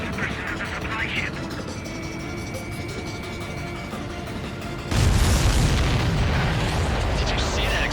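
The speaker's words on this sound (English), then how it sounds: "Did you see that explosion? Looks like that's one of them down." A supply ship blows up in the combat flight game Ace Combat 7, a sudden loud, broad rumbling blast at about five seconds that stays dense and roaring, following a stretch of game noise with radio voices.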